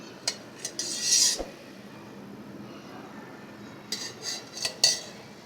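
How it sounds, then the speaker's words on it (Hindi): A spoon works biscuit dough with ghee in a bowl, producing scattered clinks and scrapes against the dish in short bursts at the start and end, with a quiet stretch between. "ये देखें, ये अच्छे से मिक्स होता जा रहा है।"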